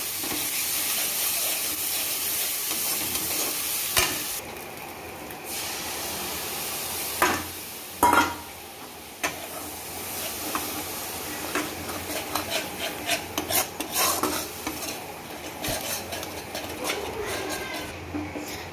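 Spice paste mixed with sour yogurt sautés in a pan with a steady soft sizzle, broken by occasional scraping stirs and clinks over about eighteen seconds.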